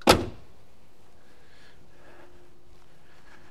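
A 1968 Mercury Park Lane door swings shut with a single solid, close thump at the start, followed by faint background hum and quiet rustling.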